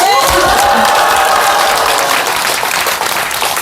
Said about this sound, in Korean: 여러분 박수 한번 더.